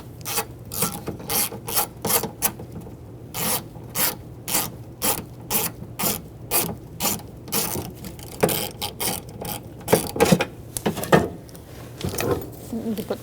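Rapid ratcheting clicks from an 11mm socket ratchet loosening window regulator bolts on a 2000-2007 Ford Taurus front door, bursts of close clicking strokes with brief pauses between them.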